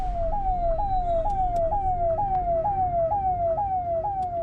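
A vehicle siren wails in a fast, repeating rising-and-falling pattern, about nine cycles, over a steady rumble of road traffic at the crowded Mahakumbh fair.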